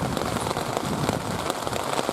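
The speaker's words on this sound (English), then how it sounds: "You see now the rain is getting into high gear" Heavy rain pours steadily in a dense, unbroken hiss of drops hitting surfaces, loud and close throughout with no voices.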